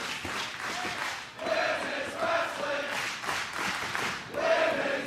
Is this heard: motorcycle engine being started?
no